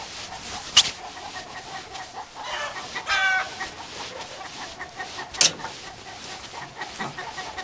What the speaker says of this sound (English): got two roosters fighting